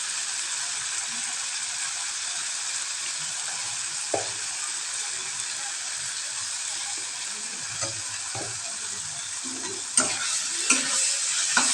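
Bitter gourd fries in mustard paste with a soft, steady sizzle, while a spoon stirs and scrapes the pan in a few light clicks toward the end, close and alone.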